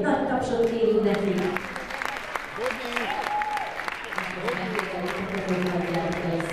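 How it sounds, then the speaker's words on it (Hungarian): Audience applause at a youth dance competition results ceremony, moderate clapping running throughout while an announcer's voice and background music carry on over it. "még egy nagy tapsot kérünk neki"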